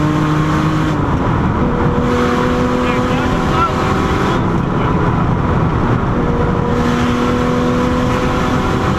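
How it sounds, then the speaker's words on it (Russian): A Nissan Skyline R34 runs loud and close with a steady, droning exhaust note and occasional pops under shifting throttle, heard from inside the car while people talk over it. "там так стреляет"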